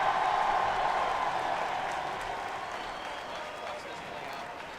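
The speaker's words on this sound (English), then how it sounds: "the crowd erupts supporting their own driver, Dylan the Dozer Hughes" A crowd at a Formula Drift event at Evergreen Speedway cheers and applauds in a broad, washing roar that slowly fades, with a commentator talking over it.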